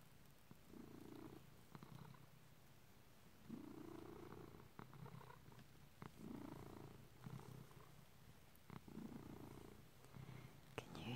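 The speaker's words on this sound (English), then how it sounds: "how loud he's purring right now?" A content pet cat purrs loudly at bedtime while being cuddled, a steady rumbling purr that swells and fades in rhythmic breaths, close and intimate with no talking.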